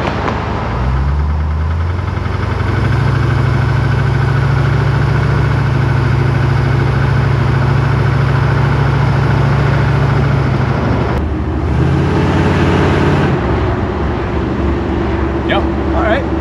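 LS-swapped V8 Chevy Nova engine running steadily with a deep, loud rumble that shifts in pitch midway, steady throughout as if cruising with the car.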